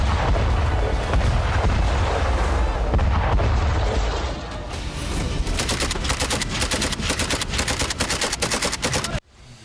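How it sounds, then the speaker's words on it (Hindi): Heavy artillery and missile strikes in the Idlib area of Syria, a continuous loud roar of explosions and booms followed by rapid rattling gunfire bursts, dense and unbroken until an abrupt end. "तुर्की ने इदलिब शहर के उस हर ठिकाने को मिसाइलों से टारगेट किया"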